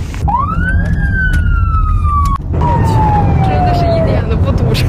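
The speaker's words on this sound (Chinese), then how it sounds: "他一拉那个警笛，车就都荡开了" A police car siren wails loudly and close, one long rising-then-falling tone that breaks briefly and resumes, with traffic rumble underneath as the car clears the road.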